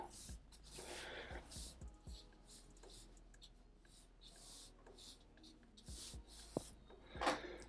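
A pencil scratches crisscross texture lines onto paper, quick repeated rubbing strokes in short bursts, close and soft, with an occasional louder scrape.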